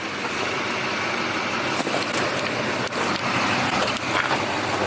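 A pickup truck's engine hums and rumbles steadily as it drives, a broad continuous road noise with a few faint knocks and rattles, no voices over it.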